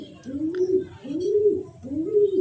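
Fancy breeding pigeons feeding on homemade grit, giving three rising, throaty coos in a steady rhythm, close and clear.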